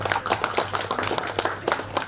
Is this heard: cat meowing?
no